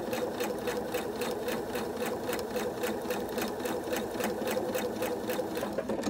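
A sewing machine runs steadily as it stitches a skinny quilt border seam, a fast, even mechanical whir with regular needle clicks that carries on without a break and with no talking.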